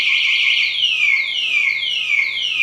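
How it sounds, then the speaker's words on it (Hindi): A loud electronic anti-theft alarm siren on an electric kids' bike wails close by, repeating rapid descending sweeps in a steady cycle, with no voices. "तो अलार्म इसका ऐसे चलेगा और इसकी मोटर फौरन रुक जाएगी"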